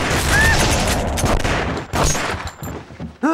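Gunfire in The Punisher video game, rapid bursts of shots that crack loudly in quick succession, with a short gap and then more shots near the end.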